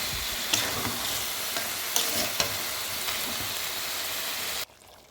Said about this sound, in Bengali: এবার আলুর সাথে ভালো করে মিশিয়ে কিছুক্ষণ ঢেকে রেখে দেব